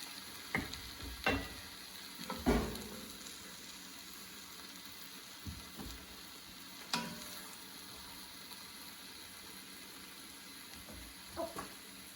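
Apples and onions fry in a hot pan with a soft, steady sizzle, broken by a few louder scraping and stirring knocks scattered through the stretch.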